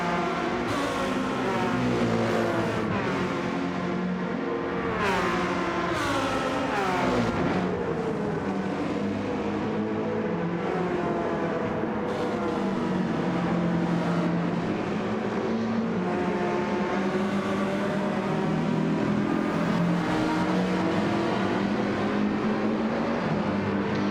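Race car engines roar in a Gran Turismo 7 online daily race, with a continuous whine rising and falling through repeated gear shifts and accelerations, loud and steady throughout.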